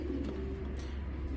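A Madrasi pigeon with a boot-shaped beak gives a soft, low coo, faint and close, over a quiet background hum with no talking.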